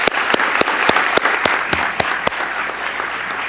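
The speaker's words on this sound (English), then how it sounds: "Please, ladies and gentlemen, let's give them a round of applause." An audience at the Deborah Morton Society convocation ceremony and luncheon claps loudly and steadily, dense applause filling the room from start to finish.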